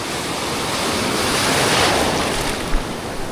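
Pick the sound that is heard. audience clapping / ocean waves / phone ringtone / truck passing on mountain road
ocean waves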